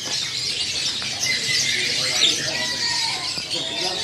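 Canaries, including a loper Malang, chirping in cages at an East Java bird market, a busy layer of high tweets and squeaks over crowd murmur and voices talking nearby.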